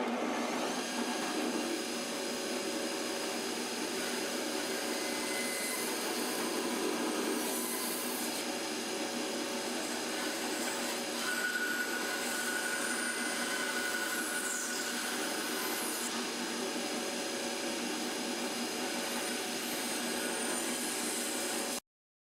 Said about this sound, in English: Let's go over to the bandsaw. I'll cut this one.